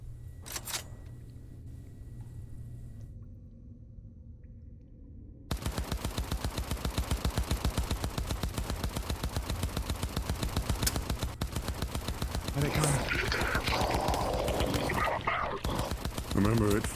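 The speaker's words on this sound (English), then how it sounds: "Open fire on the far right one." Sustained automatic gunfire in a VRChat roleplay game erupts after a quieter stretch and keeps hammering in a fast steady rhythm for many seconds, with faint talk underneath.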